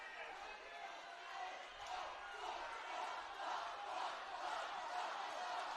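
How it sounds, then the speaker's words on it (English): Football crowd at a Newcastle United Women versus Derby County Women match, loudly jeering and reacting to a foul, a dense sustained roar of many voices that swells slightly as it goes. "The crowd obviously not happy with that."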